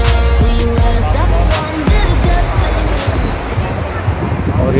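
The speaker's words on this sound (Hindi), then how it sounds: "देखिए कितना समुंदर का पानी, लहरें कितने जोरों से यहाँ से आते हुए आपको नजर आ रही है।" Sea waves surge and crash onto a Goa beach, a loud, continuous roar of surf with gusting wind noise on the microphone.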